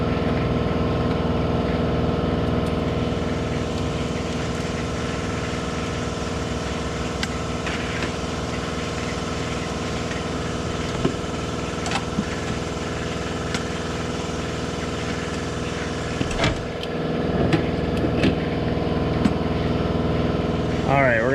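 An air compressor runs steadily in a garage while work is done on a Chevette, its constant mechanical drone and hum filling the whole stretch, with scattered clicks and knocks on top and talk heard over it.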